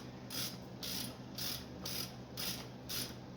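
Ratchet wrench fitted with a 5/8 socket, working a Hurst shifter swap on a Corvette Super T10 four-speed: steady repeated clicking strokes, about six bursts at an even rhythm, close and clear with no talk.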